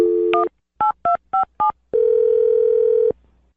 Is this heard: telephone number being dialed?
yes